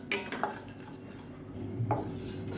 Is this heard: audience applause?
no